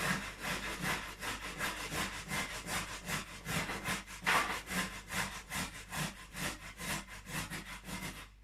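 Carrots for a vegan chia seed carrot cake rubbed against a grater in fast, even back-and-forth strokes, a continuous rhythmic rasping heard alone and close.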